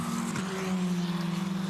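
A Formula 4 race car with a 1.6 litre four-cylinder Ford EcoBoost turbocharged engine runs at Phillip Island, its engine holding a steady, droning tone that sounds close and fairly loud, with no voices.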